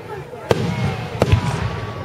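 Fireworks at a public display in Richmond bursting in the distance, two sharp bangs about a second apart over a continuous murmur of crowd noise and chatter.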